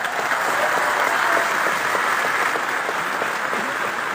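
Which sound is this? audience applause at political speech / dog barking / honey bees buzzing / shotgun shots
audience applause at political speech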